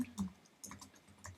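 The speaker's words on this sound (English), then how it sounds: "we're going to do that by typing margin" A computer keyboard clicks in short, quiet, irregular taps close by, sounding like light typing.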